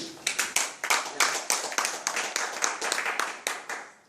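Scattered clapping from a small seminar audience applauding a family business, steady hand claps over about four seconds with no voices.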